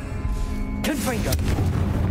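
A Confringo spell explodes in the game Hogwarts Legacy, a sudden bright burst followed by a whooshing, crackling tail and low rumble, with a voice just before it.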